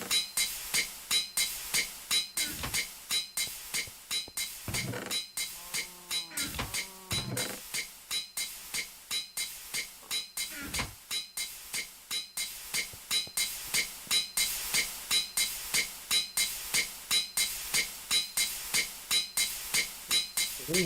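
A steam forge hammer machine in GT New Horizons pounds in a fast, regular series of sharp metallic clanks, dozens of strikes repeating at a steady rhythm, with a brief tonal chime sounding partway through and no voices.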